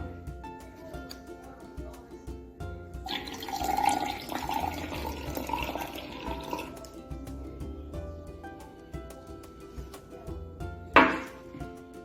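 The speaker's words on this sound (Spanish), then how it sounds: "Ahora agregaré un poco de agua." Water being added to a liquid soap mixture, a splashy pouring burst lasting a few seconds amid faint clinks of a container, followed by quieter drips and a brief sharp clatter near the end.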